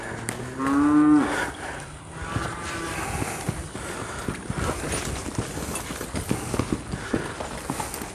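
Cattle moo loudly and close by on a farm where horses are being worked, one long low call followed by quieter mooing and hoof and movement noise, with no talk.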